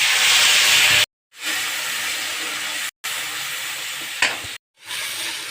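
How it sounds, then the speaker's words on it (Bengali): Ground mustard paste sizzles loudly in hot oil, a bright continuous hiss and spatter heard close by, cut by a few abrupt silent gaps, then resuming; no one speaks. "এদিকে তেল গরম হয়ে গেছে এখন আমি সর্ষে বাটা তেলে দিয়ে দেব"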